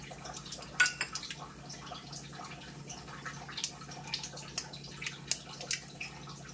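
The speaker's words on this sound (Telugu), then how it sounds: "ఇప్పుడు ఆవాలు చిట్టుపట్లు ఆడుతున్నాయి." Mustard seeds splutter in hot oil in a pan, scattered sharp pops and crackles rising irregularly over a faint sizzle, fairly close and without talk.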